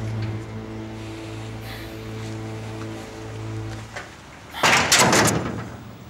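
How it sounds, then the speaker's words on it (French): A door is shut with a firm thud-and-clatter near the end, after several seconds of low steady hum and faint room sound. "Et referme cette porte, toi."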